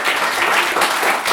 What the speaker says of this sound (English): Again, give them a big round of applause.